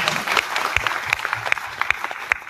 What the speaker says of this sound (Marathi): त्यांच्यासाठी एकदा जोरदार टाळ्या वाजवल्या